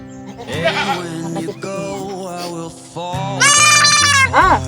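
A hungry young goat kid bleats repeatedly, close by, with high wavering cries rising in pitch and loudness toward the end.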